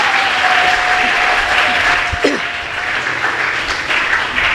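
A church congregation clapping hands together, a dense, loud, sustained burst of applause filling the room throughout with no talk over it.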